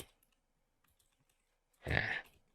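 A single short burst of keystrokes on a computer keyboard typing one short word, close and quiet after near silence.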